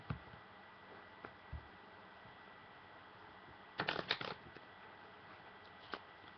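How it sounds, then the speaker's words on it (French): Bicycle Black Spider playing cards being shuffled: a brief burst of riffling flutter in the middle, with a few soft isolated card taps before and after, close and fairly quiet. "je peux mélanger les cartes"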